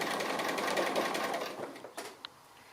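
A sewing machine stitching a fused fabric applique runs at a steady close whir, then slows and stops, leaving a few faint clicks and small knocks.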